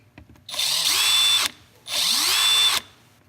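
A Milwaukee M12 Gen 2 cordless drill runs twice on its soft start setting, each burst ramping up to a steady whine and then cutting off, close and loud with no talk.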